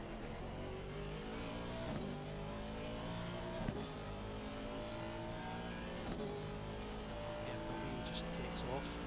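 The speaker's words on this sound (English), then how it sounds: "BMW just takes off." A BMW race car accelerates hard in Assetto Corsa Competizione during a 12-hour race at Monza, its engine note climbing through gear after gear in rising whines with brief shift breaks, under steady commentator talk.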